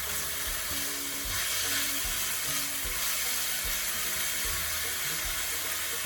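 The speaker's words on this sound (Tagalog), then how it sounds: "Saute the chicken thoroughly." Chicken sautéing in a pan for pancit bihon gives a continuous loud, close sizzle, with occasional bumps and stirring sounds through the frying hiss.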